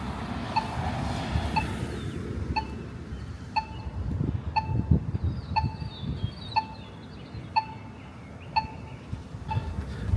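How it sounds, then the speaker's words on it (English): Railroad crossing signal beeping incessantly with sharp, evenly spaced bell-like tones about once per second, sounding over a rumbling low background of traffic and outdoor noise. "This crossing station is just making this incessant beeping."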